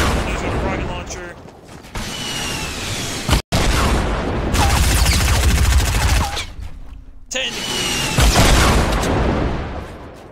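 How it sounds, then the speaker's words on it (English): Rocket launcher fire in the video game Fortnite, heavy booming blasts and gunfire-like bursts packed closely together, loud and near, with only brief gaps between volleys. "Finally, but the problem is he's using a rocket launcher."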